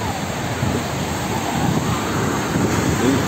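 Sea waves wash steadily onto a beach, a loud continuous roar of surf mixed with wind buffeting the microphone, with no clear breaks throughout.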